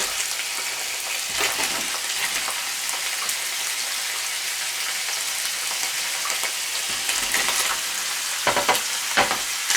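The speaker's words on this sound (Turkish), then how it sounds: "Şimdi doğradığım patatesleri koyuyorum." Loud, continuous sizzling of chopped potatoes frying in hot oil, a dense crackling hiss with occasional sharper pops and stirring scrapes.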